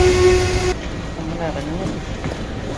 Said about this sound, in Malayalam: ട്രെയിനിലാണ് എയർപോർട്ടിലേക്ക് പോകുന്നത്